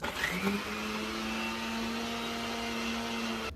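A kitchen mixer grinder runs steadily with a loud motor whine, blending mint water for pani puri with the lid missing, its pitch rising as it spins up and then holding.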